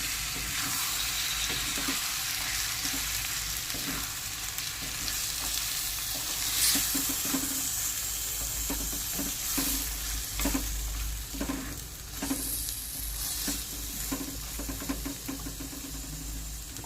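Chopped tomato frying in a hot pan and being stirred, a steady bright sizzle broken by repeated scraping and knocking of the spoon against the pan, close and continuous with no talk.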